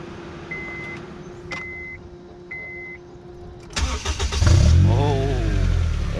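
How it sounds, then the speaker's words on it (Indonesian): A Honda Civic FD with a flip key has its engine cranked and started after a few soft dashboard chimes, the starter catching into a loud, steady idle heard up close after a quiet wait. "Okey, mula-mula saya akan hidupkan enjin dulu."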